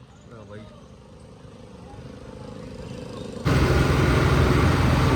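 A tractor engine hauling a loaded trolley rumbles steadily, growing louder, then abruptly swells into a much fuller, louder roar near the end; speech is mixed in.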